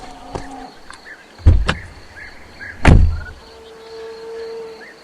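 A car door sound effect in a radio drama gives two dull thumps: a quick close pair, then a louder, heavier slam, over faint background tones.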